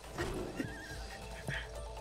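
A horse neighs twice in the It Takes Two video game, a short whinny near the start and another around midway, with faint clip-clop and game sounds underneath.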